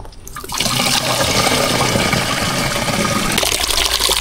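Water gushes steadily into a 16-liter knapsack sprayer, a loud, close, continuous pouring rush that starts after a brief pause and tapers slightly at the end.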